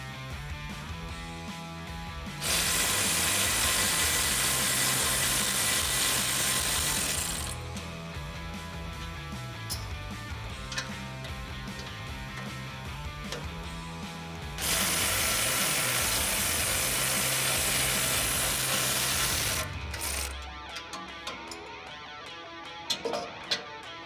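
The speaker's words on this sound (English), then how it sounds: "electric ratchet." An electric ratchet with a 14 mm socket spins bolts off the crash bar hardware on a 2016-2021 Toyota Tacoma, with two long steady whirring runs separated by quieter clicking and fiddling, close by, with no talk.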